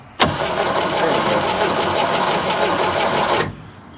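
Starter cranks the stuck 305 V6 big block of an abandoned 1967 GMC C20 in one steady, loud whirring spin lasting about three seconds before cutting off abruptly, without firing.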